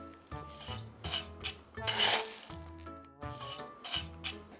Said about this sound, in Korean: 마사토를 여기에다가 이렇게 넣어서 자, 망을 제가 살짝 가렸습니다.